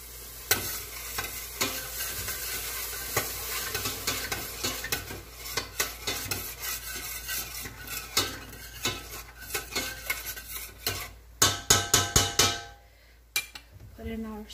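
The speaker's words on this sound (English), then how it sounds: "we're going to stir that around" Chicken and gnocchi dumplings sizzle steadily in a pan while a utensil stirs and scrapes against it, with repeated metallic clinks and knocks that grow louder and quicker toward the end.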